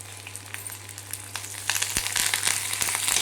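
Mint, coriander and curry leaves dropped into hot oil in a frying pan with reddened urad dal, giving a brief crackling sizzle that builds into a louder steady frying hiss.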